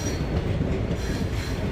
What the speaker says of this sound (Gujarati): જો આ બે ટ્રેનો ભેગી થયું